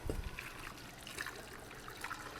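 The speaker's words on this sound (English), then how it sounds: "And then I'll pour hot water over it." Hot water poured over mozzarella-style cheese curds, a soft continuous trickle and splash, faint and close, with no one speaking.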